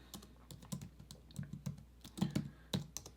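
Quiet typing on a computer keyboard, a fast irregular run of soft clicking keystrokes close by.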